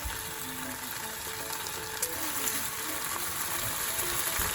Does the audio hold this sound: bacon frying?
yes